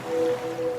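Ocean waves used as a sound effect in a radio advertisement, a soft, steady wash of surf with a faint tonal hum running through it, brief and without any voices.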